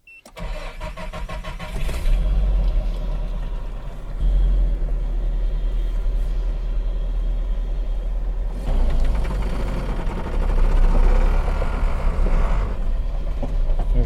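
A Nissan Hardbody truck on old tires drives with a steady, loud low engine and road rumble throughout, its front tires scrubbing, with the noise swelling slightly near the start and again toward the end.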